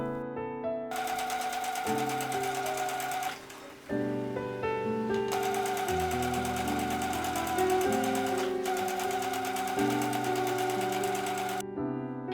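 A sewing machine stitching a denim tote bag, a loud steady mechanical whirr with a rhythmic needle chatter that runs in long bursts with brief pauses between.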